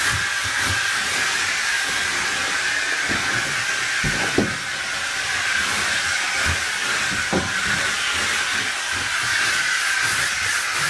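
A steam cleaner used on motorcycle wheels vents its leftover steam in a steady, loud hiss, with a few faint knocks and clicks underneath and no talking.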